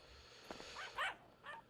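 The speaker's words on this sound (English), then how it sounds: "I just heard a dog barking" A small yippy dog gives several short, faint yips and barks spaced irregularly, distant and thin over a quiet background.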